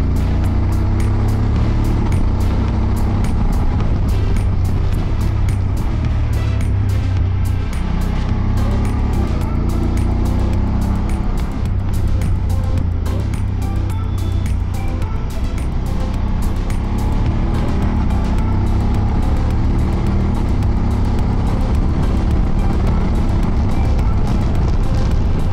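A motorcycle cruises a curvy mountain pass road near Piedrahíta and Peñanegra, its engine a loud, steady drone with wind rush filling the whole stretch without pause.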